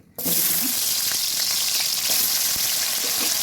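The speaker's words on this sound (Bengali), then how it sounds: "উল্টে পাল্টে আমি আলুটাকে ভেজে নেব" Loud, steady frying sizzle from salted, cut potatoes in a hot pan, a dense crackling hiss that starts abruptly and continues throughout with no voices.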